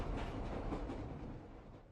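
A train in an anime episode rolls along with a dense, steady rumble that holds at a constant level for a moment before fading slightly.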